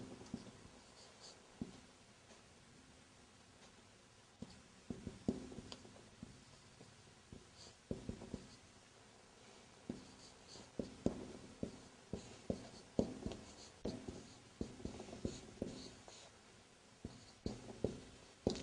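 Handwriting strokes scratch and tap close up in irregular bursts of short, dry marks with brief pauses between words, with no talking.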